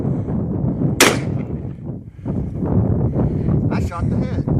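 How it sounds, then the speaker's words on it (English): A single sharp AR-15 rifle shot cracks out close by, set in outdoor wind noise, with people talking and reacting before and after the blast. "He pulls the trigger."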